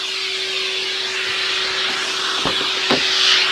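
A Metro Vac N Blow Pro 83BA vacuum with a brush attachment runs steadily on hard plastic car interior trim, a continuous close airy roar with a couple of brief brushing scrapes near the end.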